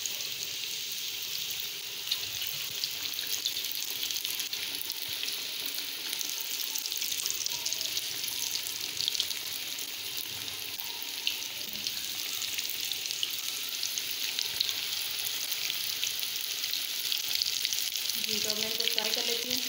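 Samosas deep frying in hot oil give a continuous, dense sizzle and crackle that holds steady throughout, close and moderately loud with no talk over it.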